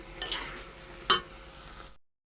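A spoon stirs tomato chutney with dates, raisins and sugar in a pan, soft scraping and a faint sizzle with one sharp clink of utensil on metal, close and quiet.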